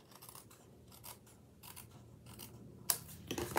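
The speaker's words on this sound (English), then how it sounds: "So just take your scissors and trim it." Scissors snip and trim card paper for a handmade stamped card, giving quiet repeated scratchy cuts that build toward a few crisper snips near the end, close up with no talk.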